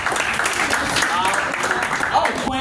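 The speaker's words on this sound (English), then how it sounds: "Clap for her." Church conference audience clapping, a dense wash of applause with voices mixed in underneath throughout.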